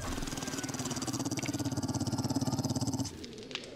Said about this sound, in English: And of course, there are dogs right there.